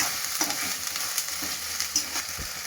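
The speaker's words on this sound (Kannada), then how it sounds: "ಸ್ವಲ್ಪ ಶುಂಠಿ ಬೆಳ್ಳುಳ್ಳಿ ಪೇಸ್ಟ್ ಅದು ಹಸಿ ವಾಸನೆ ಹೋಗೋದಕ್ಕೆ ಸ್ವಲ್ಪ ಡ್ರೈ ಮಾಡ್ಕೋಬೇಕು." Ginger garlic paste sizzles and fries in a hot pan for a chicken masala, with a steady close crackle and a few soft scrapes of stirring, and no talk.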